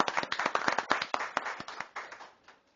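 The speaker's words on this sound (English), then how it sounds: "Let's give her a big round of applause tonight for being here." Applause at a city council meeting in a hall, a small group clapping close by with distinct individual claps that thin out and die away after a couple of seconds.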